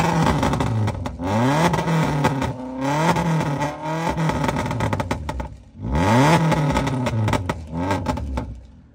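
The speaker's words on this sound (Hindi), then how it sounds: "बहुत ही बढ़िया एग्जॉस्ट की आवाज भी आ रही है।" A remapped Maruti Baleno with a stage-2 tune revs hard, its exhaust rising and falling in loud close bursts with crackling pops and bangs between revs.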